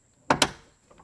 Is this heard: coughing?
no